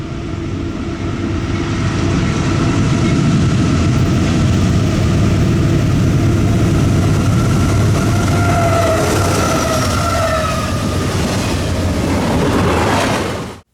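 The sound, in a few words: train passing, filmed from a low angle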